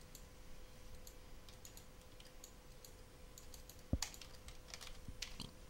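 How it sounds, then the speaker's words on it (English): Faint computer keyboard and mouse clicks tap out irregularly in the background during a Ratchet & Clank game session, with one sharper knock partway through and no talking. "if you heard any clicking in the background at all"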